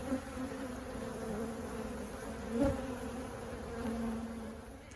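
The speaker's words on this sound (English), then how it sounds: "Those bees you see clustered around the little entrance that I left them, they live there" A steady hum of honeybees buzzing around a hive, with a few swelling passes as robber bees fly close.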